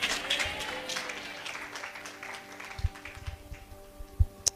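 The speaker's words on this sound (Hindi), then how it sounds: "वचन के प्रेमी तालियां बजा रहे थे।" Audience clapping during a sermon, a dense patter that is strongest at the start and then thins out over steady sustained tones, with a few scattered louder claps near the end.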